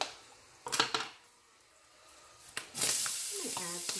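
Onions and peppers hit hot olive oil in a pan for Cuban picadillo, a few clanks of cookware first, then a sudden loud, steady sizzle that lasts to the end, with a voice speaking under it.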